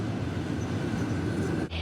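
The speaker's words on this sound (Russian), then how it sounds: "В пути электричка делает несколько остановок в туристических городах Абхазии." An electric commuter train travelling through Abkhazia, a continuous close rumbling roar of rolling wheels and carriage noise, loud and steady, dipping briefly near the end.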